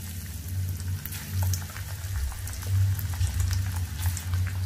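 Bitter gourd chips sizzle and bubble in hot oil, a steady close frying crackle with a low rumbling boil, alone without talk.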